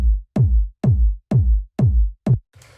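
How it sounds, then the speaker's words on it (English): A fat, full 909-style electronic kick drum for minimal tech house hits six times in an even rhythm, each hit a deep booming thump with a quick pitch drop, dry and loud, then a short burst of faint noise. "It's like a 909 kick, but just like the fattest and most full version of that."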